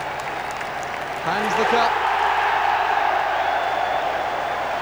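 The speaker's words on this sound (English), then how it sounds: "applauded by the losers" Stadium crowd applauding at the F.A. Cup Final trophy presentation, Liverpool against Manchester United, a broad steady wash of clapping and crowd noise swelling after a quiet start, with a commentator talking over it.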